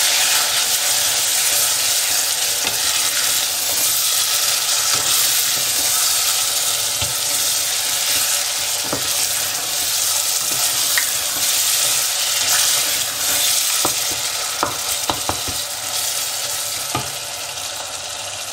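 Spice masala frying and being stirred in a pan for bhindi masala, a steady loud sizzle with occasional scrapes and clinks of the spoon, no talking.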